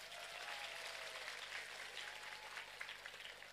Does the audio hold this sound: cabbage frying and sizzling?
no